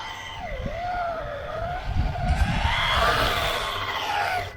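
A 1/16-scale rear-wheel-drive RC drift taxi, a Toyota Crown by MN Model, spins out with a whining electric motor that rises and falls in pitch, close by, alongside tire scrub and rattling noise on the surface.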